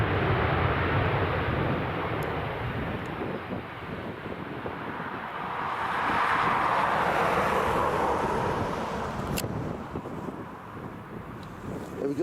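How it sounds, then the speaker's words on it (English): Ryanair Boeing 737 jet flying overhead near Dublin Airport, a steady broadband engine roar that swells toward the middle and fades, with wind buffeting the microphone throughout. "We have FR3672, this Ryanair Boeing 737 heading over to Milan."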